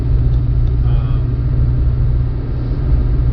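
Steady low engine rumble and road drone from inside a moving truck, continuous and fairly loud throughout with no talk.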